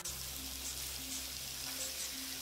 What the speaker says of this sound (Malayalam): നല്ല ഒരു ഗോൾഡൻ കളർ ആവുന്നവരെ നമുക്കിത് ഫ്രൈ ചെയ്തെടുക്കാം.